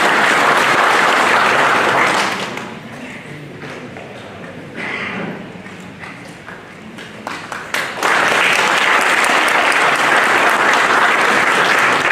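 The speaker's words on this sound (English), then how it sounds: "We can do a single clap" A ceremony audience breaks into loud sustained applause, which fades to scattered claps and murmuring before a second full round of clapping swells up and carries on strongly to the end.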